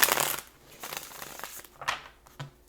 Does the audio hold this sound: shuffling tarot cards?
yes